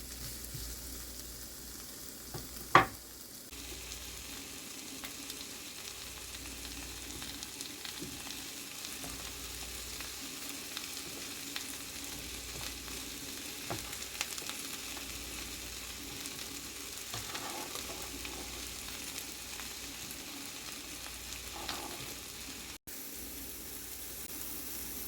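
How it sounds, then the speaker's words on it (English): Onion and mushrooms frying in a pan, a soft, even sizzle running steadily throughout with a single sharp knock near the start. "you can see the onion is starting to caramelize"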